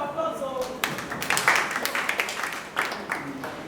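Audience applause at an interschool debate competition, a short burst of clapping at moderate distance mixed with voices and room murmur.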